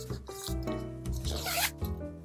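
A back zipper pocket on a Jujube Super Be diaper bag being zipped, a close, loud run of rasping zip strokes with brief pauses between pulls, no talking.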